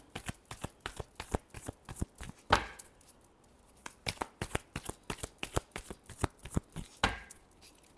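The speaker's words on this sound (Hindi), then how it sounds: "last shuffle" Tarot cards are shuffled close up in a rapid, rhythmic series of crisp riffling snaps, with no talking.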